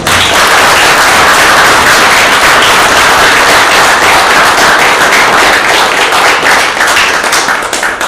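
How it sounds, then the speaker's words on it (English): Loud, dense applause from an audience, a steady unbroken wash of many hands clapping close by for two advocates at a Trial By Combat 2024 advocacy competition, with no talking over it. "Can we give these two advocates a round of applause?"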